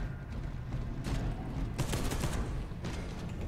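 Automated sentry turret firing in the Space Hulk: Deathwing video game, a dense sustained burst of rapid gunfire with booming low rumble, loud and continuous with brief gaps throughout.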